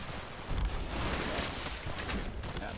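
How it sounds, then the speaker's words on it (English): Sten submachine gun fire in Combat Mission, a dense rattle of rapid shots mixed with distant battle noise, continuous and fairly loud throughout. "A bit of Sten fire coming in from over here, this building"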